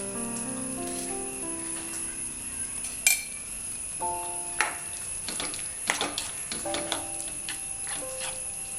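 A spoon stirs lime pickle in a pan, giving a run of scattered scraping clinks and taps against the metal over a faint background hiss and tonal hum.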